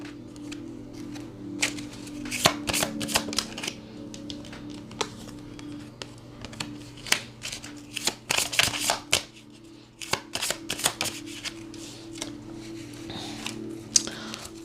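Tarot cards are shuffled in a steady run of crisp riffling and flicking bursts over a low, constant hum, close and fairly loud, with no talking.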